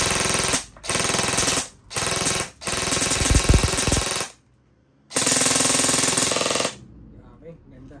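Lancer Tactical LT-04T airsoft rifle, a programmable M4-style unit, firing bursts of full-auto fire: four long rattling strings broken by short pauses, loud and close, with a brief quiet gap before the last burst.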